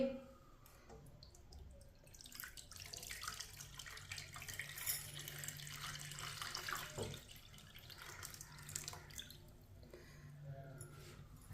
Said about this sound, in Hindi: अब इसमें दूध डालेंगे।